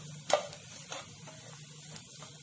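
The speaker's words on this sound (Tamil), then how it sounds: "இப்போ எல்லாத்தையும் நல்லா சேர்த்து மிக்ஸ் பண்ணிடலாம்." Spiced rice-flour ball mixture stirred in a pan with chili powder and masala, a spoon scraping in a few soft strokes over a quiet steady sizzle.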